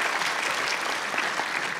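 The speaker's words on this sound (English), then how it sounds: "Give her a round of applause." Audience at the Liverpool Comic Con claps in a steady, dense burst of applause that fills the whole moment, with no speech over it.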